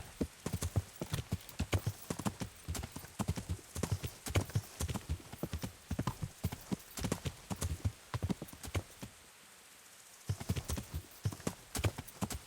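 Rhythmic clip-clop of horse hooves in the video game Kingdom Come: Deliverance, steady and fairly close, pausing briefly before resuming; a faint whinny may be heard.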